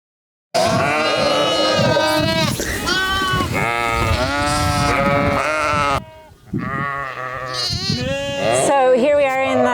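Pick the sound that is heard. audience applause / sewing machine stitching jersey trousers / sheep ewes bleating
sheep ewes bleating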